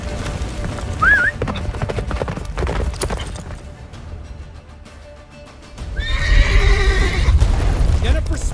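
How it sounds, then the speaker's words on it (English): A horse gallops and neighs in The Witcher 3 video game, with hoofbeats under wind-like ambience, a short whinny early on and a longer, louder neigh near the end. "Faster, Roach. Don't stop!"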